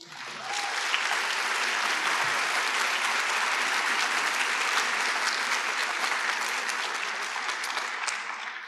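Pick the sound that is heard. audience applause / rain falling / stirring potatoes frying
audience applause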